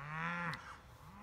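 Cattle moo close by on a grazing farm, one long, loud call that falls away after about half a second, followed by quieter lowing with no talk.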